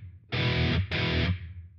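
Electric guitar played through a Line 6 Helix with a subtle room reverb, two loud sustained distorted chords, the second cut off as the reverb tail fades out.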